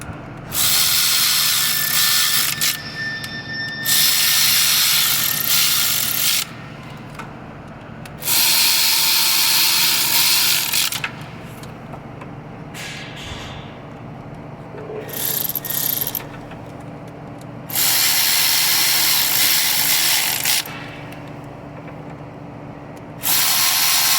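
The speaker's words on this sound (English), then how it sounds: "Get my electric ratchet. Snug these beasts down with this." Electric ratchet snugging down bolts on a Honda Odyssey during a timing belt job, several loud whirring bursts a few seconds each separated by quieter pauses.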